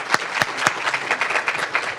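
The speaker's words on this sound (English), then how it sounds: "How about one more round of applause?" An audience applauds at a PsyD pinning and hooding ceremony. The clapping is dense and steady for about two seconds, with a few sharp claps standing out and no voices.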